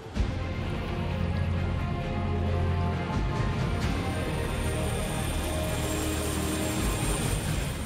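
Helicopter carrying a research team to King George Island in Antarctica, a steady, continuous droning engine and rotor roar at moderate distance, unbroken throughout with no voices.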